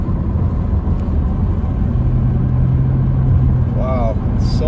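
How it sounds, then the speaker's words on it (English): Cars travel on snowy mountain roads around Big Bear Lake, heard as a loud, continuous low road and engine rumble from inside a moving vehicle, with a brief voice-like sound near the end. "Wow, so much traffic."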